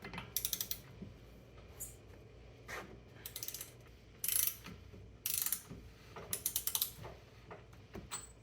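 Ratchet driving a 1 1/4 inch socket on a Chevy Bolt EV wheel, several bursts of fast, faint clicking separated by short pauses, with no voices.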